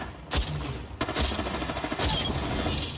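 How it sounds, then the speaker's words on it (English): Gunfire in a busy Apex Legends firefight, with several sharp shots and a dense, sustained volley of rapid fire following close behind, loud and continuous throughout. "I am taking fire."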